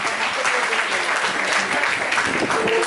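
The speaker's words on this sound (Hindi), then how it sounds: "जोरदार तालियों से अभिनंदन" Audience applause at a Hindi festival contest in Jamshedpur, welcoming a judge: dense, continuous clapping from a crowd indoors, steady and moderately loud throughout with no voices over it.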